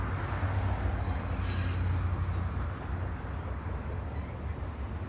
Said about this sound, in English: I can also probably stop the other train noises